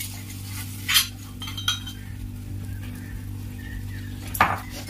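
A metal spoon clinks against a cooking pan while spicy homemade masala is spooned onto stuffed brinjal, a few scattered scrapes and taps over a steady low kitchen hum.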